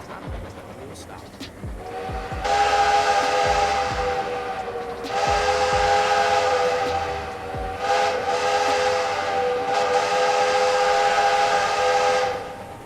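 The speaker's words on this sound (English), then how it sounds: "let's blow our whistle one more time" A Roblox video-game steam locomotive blows its whistle in three long, loud, sustained blasts, with a soft steam hiss and rail noise underneath.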